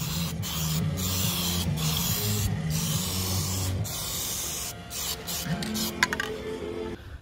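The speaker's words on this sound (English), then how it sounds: "So I always like to do a couple of nice mist coats." A Graco FTX spray gun mists paint onto a garage roller door, a steady hissing spray running almost continuously at close range, with a few brief pauses and a low hum underneath.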